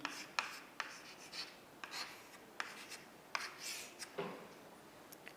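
Chalk or marker strokes writing matrices on a classroom board, a series of short scratchy taps and longer rubbing strokes, quiet and close with no talking.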